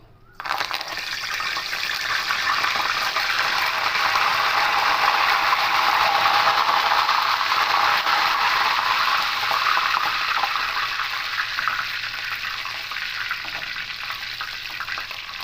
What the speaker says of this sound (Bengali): এইভাবে করে ভাজিয়ে কারি পাতাটা